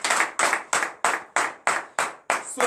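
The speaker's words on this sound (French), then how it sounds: "Donnez l'acclamation à Jésus." A congregation at a morning prayer service claps in unison, eight or nine sharp, evenly spaced group claps in a steady rhythm, loud and close with no talking.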